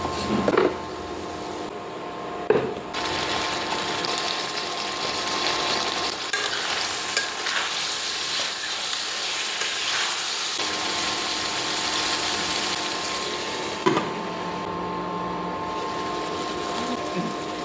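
Garlic, onion, dried chili and a little cumin frying together in a hot pan as a tempering, with a steady sizzle and occasional stirring clinks, no talk.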